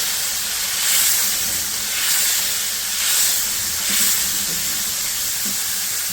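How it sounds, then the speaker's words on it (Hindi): Masala paste of ground tomato and green chilli fries in a pan for Hyderabadi mirchi ka salan, giving a steady close hiss and sizzle that swells gently several times, with no talking. "ये देखिए मसाला अच्छी तरीके से भुन रहा है"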